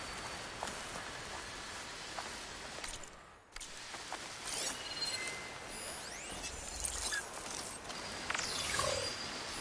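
Robotic machines in Horizon Forbidden West move through a clearing with mechanical clanks, ratcheting clicks and whirring bursts scattered over a steady ambient bed, with a brief dip near the middle and no talk.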